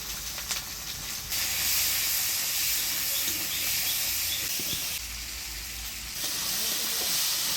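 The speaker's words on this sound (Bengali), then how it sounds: "এবারে ছোট আলুগুলা ভাজি নিব। দিয়ে দেবো হলুদ লবণ," Small potatoes frying in a pan with turmeric and salt give a loud, close, continuous hissing sizzle that surges in two bursts, with faint stirring underneath.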